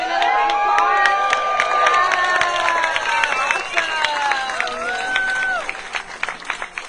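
Clapping and high whoops and whistles rise from an outdoor crowd at a No Kings rally in Madaket Square, lively and continuous before thinning out near the end.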